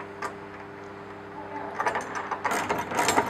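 Nuts being tightened on clamps fastening steel hood sticks of an 88-inch canvas hood kit, a quick ratcheting clicking that grows louder and denser toward the end, close by.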